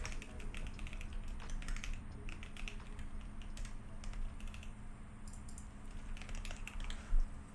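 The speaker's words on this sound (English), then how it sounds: "Okay, typing, getting shit done." Fingers tap steadily on a computer keyboard at a desk, with quick irregular runs of light clicks and brief pauses, close and fairly quiet with no talking.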